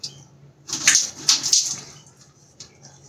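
Water splashed onto the face at a sink before a shave, in several close, bright splashing bursts followed by quieter trickles and drips, with no talking.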